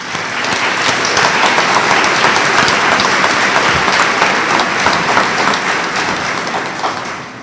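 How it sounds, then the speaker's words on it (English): Sustained applause from a large crowd at a high school graduation, steady and loud throughout, tapering slightly at the end. "I myself believe that deserves a round of applause for these seniors"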